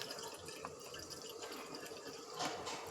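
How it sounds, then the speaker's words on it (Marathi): Hot water runs and splashes as it is poured for a bath, a faint steady trickle with small drips and a slightly louder splash near the end. "काय कडक कडक पाण्याने माझ्या बाईला आंघोळ घालते."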